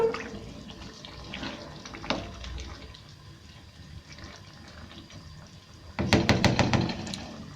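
Water poured into a pot of keema matar (minced meat with peas), a quick close splashing gush near the end after a stretch of quiet kitchen background.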